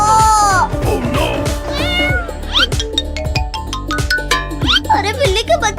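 A cartoon kitten gives a string of high, sliding meows over a busy, loud music bed, with a voice chattering alongside.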